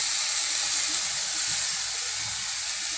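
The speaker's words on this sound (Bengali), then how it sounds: "তেল গরম হয়ে গেছে, আমি এর ভিতরে এখন ঢেলে দিব আমার চিনি গুঁড়া চালগুলো।" Chinigura rice poured into hot soybean oil for chicken biryani, giving a continuous bright hissing sizzle that holds steady and close for the whole span.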